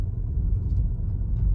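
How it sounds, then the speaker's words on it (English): A car rolls through a Dallas, Texas neighborhood of small townhomes, giving a steady low rumble from inside the vehicle throughout the short stretch. "driving through Robocop's neighborhood"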